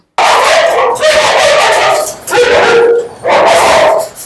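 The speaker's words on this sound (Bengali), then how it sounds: "এগুলো জার্মান শেফার্ড এই যে রিও আর রুবির বাচ্চা" German Shepherd dogs bark and yip in three bursts with short gaps between them, loud and close, with whimpering mixed in.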